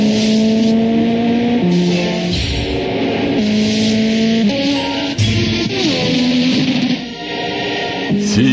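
High-performance Hyundai Elantra on the Autobahn, engine revving hard with rising pitch, dropping on each gear shift, then climbing again, loud and close and sustained throughout.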